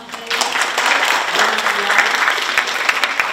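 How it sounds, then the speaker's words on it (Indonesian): Seminar audience claps steadily for a speaker named Pak Bambang at a counselling seminar, a dense, fairly loud wash of applause lasting throughout with no talking over it. "Tepuk tangan untuk Pak Bambang"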